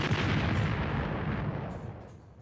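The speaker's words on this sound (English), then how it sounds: "Gunshot." A gunshot sound effect: one heavy, booming blast with a long rumbling decay that fades slowly, loud and alone with no voices.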